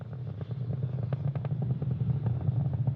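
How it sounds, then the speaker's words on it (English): A SpaceX Falcon 9 rocket's engines rumble in a steady, low, crackling roar during ascent, heard from afar with fluttering pulses. "The rocket sound is always, you know, very interesting to watch."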